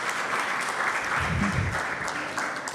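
Applause from a temple audience for a speaker after a class, a full, even round of clapping lasting a few seconds with a brief low murmur partway through.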